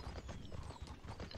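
A horse's hooves clip-clop in a steady rapid rhythm in the video game Mortal Online, faint and continuous with no voices over them.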